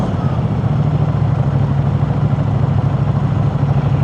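A Royal Enfield Himalayan 450 motorcycle sits idling at traffic lights, its engine giving a steady, even low rumble with a faint rhythmic pulse, loud and close, with nothing else audible.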